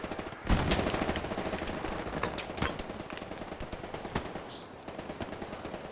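Sustained machine gun suppressing fire in the WWII shooter Hell Let Loose, a dense rattle of bursts with loud nearby shots over a constant din of battle, brief pauses and a sharper crack near the middle.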